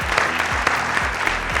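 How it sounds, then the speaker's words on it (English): Brief burst of audience applause for contestants at a televised Nigerian quiz competition, dense and steady with a few sharper claps standing out, no talking over it. "Another round of applause for all our contestants."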